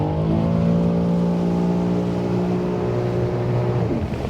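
A Sea-Doo Fish Pro personal watercraft engine winds up to full throttle, a loud sustained rising roar close by before easing off near the end, with no talking.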